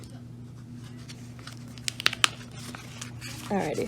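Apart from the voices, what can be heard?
opening a paper envelope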